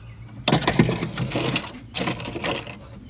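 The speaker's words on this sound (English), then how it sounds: "it produces this really clear type of ice like this" A Joy Pebble commercial ice machine drops clear, thick ice cubes in two bursts of close, rattling clatter, separated by a short lull.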